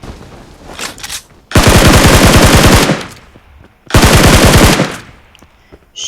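Scar-L assault rifle in PUBG Mobile firing two long, loud full-auto bursts of rapid, evenly spaced shots, each lasting over a second with a short quiet gap between them.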